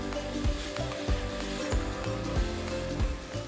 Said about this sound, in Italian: e lasciamo soffriggere qualche minuto